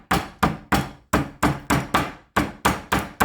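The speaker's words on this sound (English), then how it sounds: "you can pound it or press it using your pounder" Repeated heavy thuds as lemongrass is pounded with a pounder, about ten sharp strikes in a steady rhythm, close and loud, each decaying quickly before the next.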